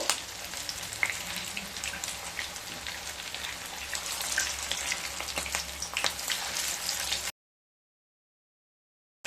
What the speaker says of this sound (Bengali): মিডিয়াম স্টিমে পকোড়াগুলোকে ভেজে নিতে হবে